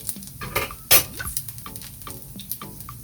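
Jamaican salt fish fritters fry in a pot of oil, with a soft sizzle beneath clinks and scrapes of a utensil against the pot and one sharp metallic knock near the start.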